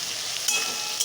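Chicken, beans, carrot, chilli and soybean fry with salt in a pan, giving a steady close sizzle with a couple of brief louder crackles and no talking.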